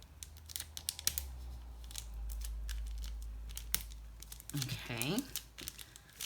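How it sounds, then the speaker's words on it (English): A small paper envelope filled with sprinkles for a shaker card is flattened and folded by hand, making close crinkling and rustling with soft taps, while someone speaks briefly. "Now I'm gonna flatten this out and go ahead and fold this down."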